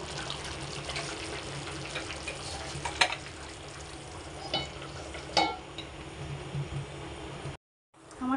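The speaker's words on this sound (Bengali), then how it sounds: "মাছগুলো উল্টে দিয়েছি। একটু কাঁচা সর্ষে তেল দিয়ে চাপা দিয়ে দেবো।" Fish fry in mustard oil in a pan, giving a faint, steady sizzle with occasional clinks and stirring sounds. A brief cut near the end is followed by the sizzle returning.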